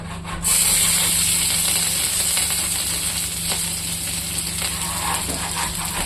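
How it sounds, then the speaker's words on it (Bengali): Chopped green chilies frying in oil for a chutney give a steady, loud hiss that starts abruptly and holds evenly without pause. "এই কাঁচা লঙ্কাটা এটা কেটে রেখেছিলাম, এটাও ভাজা করে নেব চাটনিতে দেওয়ার জন্য"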